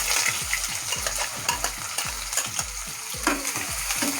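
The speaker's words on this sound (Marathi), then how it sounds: "आता यामध्ये मी कढीपत्ता टाकते 4-5, आणि इथे मी 2 कांदे बारीक चिरून घेतलेले आहेत, ते टाकायचे आपल्याला।" Finely chopped onions and a few curry leaves frying in a pan for a beans masala, with a steady loud sizzle and rhythmic scraping strokes of a spoon stirring roughly twice a second, no talk.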